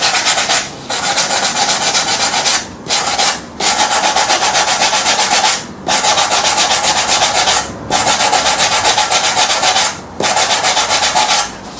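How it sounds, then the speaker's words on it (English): A small sanding block rubs across wood in five long, steady strokes with short pauses between them, loud and close with no talking. "I bought this little sanding block"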